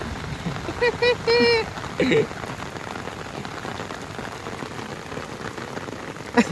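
Rain patters steadily on surfaces in a Gujarati village near the Balagam Ghed river, a dense constant hiss under brief voices talking close by.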